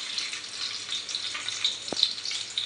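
Chopped onion sizzles in hot oil with spluttering mustard seeds in a pan for a Malvani-style mackerel curry base, a soft steady crackle close by with one brief dull knock.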